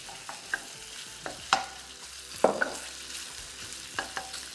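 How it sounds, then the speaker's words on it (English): Beef sizzling in a hot wok, a soft frying hiss broken by several sharp scrapes and clatters of stirring at irregular intervals. "be careful, because this will splash and it will sizzle."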